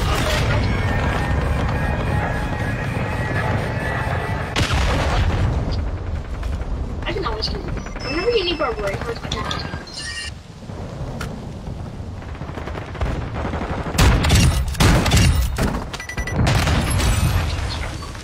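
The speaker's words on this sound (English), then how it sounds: "Oh shit, no, that's a cruise missile." Cruise missile explosions boom through a first-person shooter match, heavy rumbling blasts and crackling bursts swelling and fading over several seconds, mixed with game noise while players talk over it.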